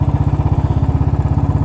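A 2011 Royal Enfield Electra motorcycle idles up close with a loud, steady, evenly spaced thump of single-cylinder beats, with no voices over it.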